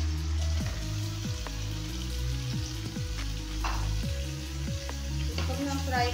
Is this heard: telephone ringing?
no